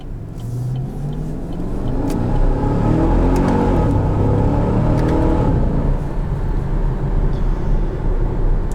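A 2012 Chevrolet Camaro 2SS automatic accelerating hard, heard from inside as a loud V8 roar climbing steadily in pitch through a gear, then holding a strong sustained drone.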